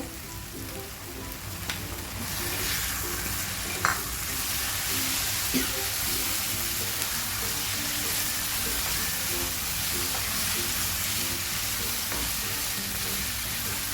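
Loitta dried fish goes into spice paste frying in a pan, giving a steady, close sizzle with stirring scrapes that carries on throughout without talk.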